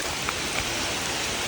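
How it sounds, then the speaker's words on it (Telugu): Heavy rain pours down steadily on the way to Tirumala near Tirupati, a dense, even hiss of water that fills the whole scene, loud and close with no break or voices. "వర్షం అయితే ఫుల్ పడుతుంది, పొట్టు పడుతుంది వర్షం."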